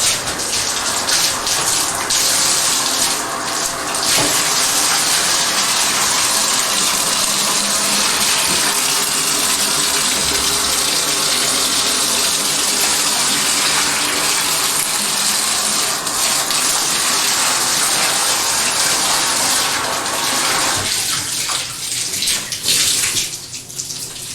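Water runs steadily and loudly from a tap or shower while a vacation rental bathroom is rinsed during housekeeping cleaning, a continuous close gush with slight shifts in flow and no speech.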